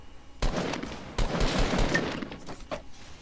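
Rapid bursts of minigun fire in Fortnite Battle Royale, several loud sustained volleys broken by short pauses, close and dominant with no talking.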